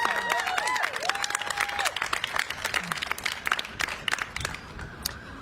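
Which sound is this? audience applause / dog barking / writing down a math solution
audience applause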